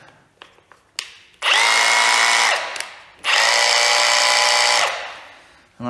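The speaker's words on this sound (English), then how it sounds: "But let's try drill number 1." A repaired Milwaukee SDS drill runs in two loud, close bursts, each a high steady motor whine lasting over a second, separated by short pauses and preceded by a few small clicks.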